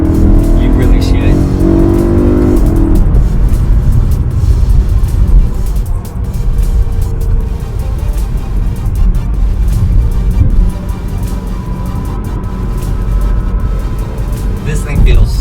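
A BMW E92 M3 with the DCT gearbox being driven, its engine a steady low drone with road and cabin noise that dips and builds as speed changes, with someone talking over it.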